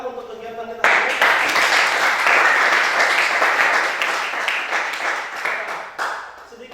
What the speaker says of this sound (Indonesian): Beri tepuk tangan untuk kegiatan kita hari ini.